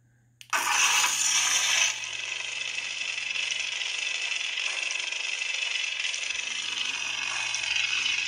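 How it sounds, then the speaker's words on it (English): A lightsaber's unstable sound font fires a delayed dual ignition: a sudden loud crackling burst that gives way to a steady, slightly fluctuating hum close by. "I chose the delayed ignition, so this has the dual ignition sound."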